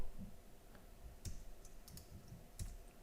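A computer mouse gives a handful of sharp, faint clicks spaced irregularly over a few seconds in a quiet room.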